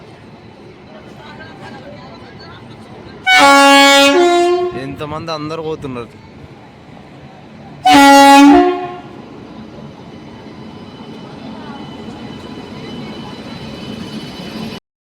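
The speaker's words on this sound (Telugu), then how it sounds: "ట్రైన్ వచ్చేసింది." Two loud, sustained train horn blasts ring out as a train pulls into a station, about four seconds apart, over steady rumbling rail and platform noise, with people talking nearby.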